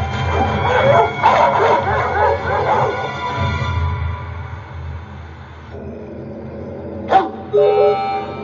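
A dog in a cartoon fight barks, yips and whimpers in quick bursts over an animated soundtrack, with a later sharp yelp as the noise drops off.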